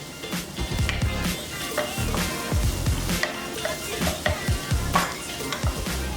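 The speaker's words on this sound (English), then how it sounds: "Just saute the onion up nice until it's nice and soft." Onions sautéing in a pan until soft, a steady close sizzle with scattered stirring clatters of utensil on the pan, continuous and fairly loud with no talking.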